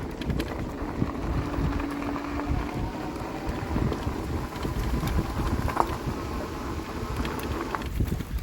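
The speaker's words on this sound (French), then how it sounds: "il commence à pleuvoir de plus en plus" Steady rain and wind buffet a microphone during a ride on a Mokwheel Basalt ST fatbike, a continuous dense rumble and hiss with no pauses.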